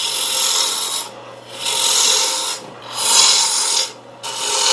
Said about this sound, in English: we're going to come back to the roughing gouge and shape the rest of the dipper.